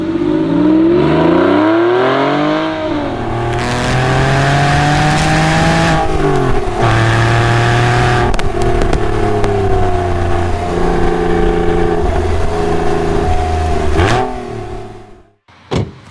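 A Porsche 996 Carrera 4S accelerates hard on a drive, its engine note climbing in pitch through several rising sweeps and gear changes, loud and close, with no talking until it cuts off at the end.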